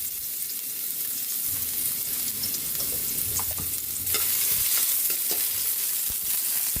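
Chopped garlic and ginger sizzle steadily in hot cooking oil in a pan for a sinigang, a continuous bright frying hiss with occasional spoon scrapes and clicks, getting louder partway through as more is added.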